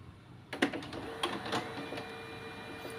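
An HP Color Laser 176n printer makes a colour copy, starting after a short quiet moment with a few sharp mechanical clicks and clunks, then running with a steady whir and a thin whine close by.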